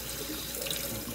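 Water runs steadily from a kitchen sink tap, a continuous broadband rushing and splashing that stays even and close for the whole moment with no voices.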